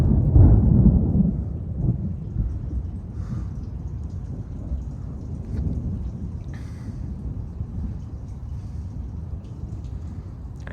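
A thunderstorm rolls over Houston, Texas, opening with a heavy low rumble of thunder that eases into steady rain pattering on surfaces, with faint distant crackles scattered through.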